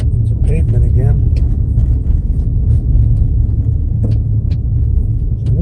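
A car rolling down a National Forest Service road to the Springer Mountain trailhead, its loud, steady engine rumble and road noise filling the cabin while a voice speaks over it.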